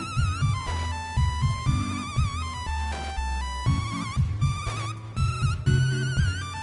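A bright electronic phone ringtone from the video game Dreams plays in repeating melodic bursts with a bass line underneath, loud and up close.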